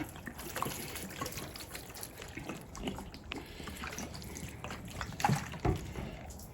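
Water trickles and splashes softly as a section of a surface is wetted before washing, a faint, uneven dribble with occasional louder drips and no voices.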